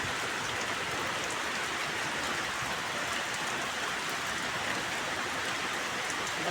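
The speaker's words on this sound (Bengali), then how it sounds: "কি বৃষ্টি দেখো" Heavy monsoon-season rain pours steadily, a dense, unbroken hiss of drops striking surfaces, loud and close with no voices.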